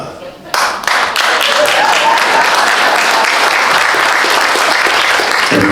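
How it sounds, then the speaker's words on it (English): Audience at a clean stand-up comedy showcase breaks into loud, sustained clapping that rises suddenly after a moment and carries on steadily. "I'm not trying to get that cheap applause from that"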